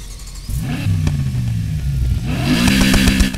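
Car engine in the Need for Speed Heat video game, a Ford Focus RS fitted with a 4.0 V8, revving hard and close with rising roars, a brief dip, then climbing again, loud and alone.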